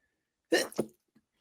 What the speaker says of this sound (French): attention, je vais éternuer, ça va être incroyable